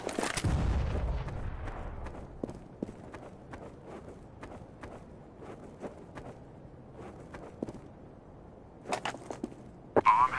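A grenade blast in Counter-Strike: Global Offensive thumps loudly at the start and decays, followed by quick footsteps and scattered gunfire pops, with a few sharp shots near the end.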